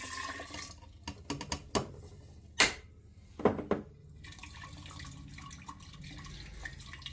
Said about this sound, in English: I do a little bit of my brine at this point because I really want to mix those spices up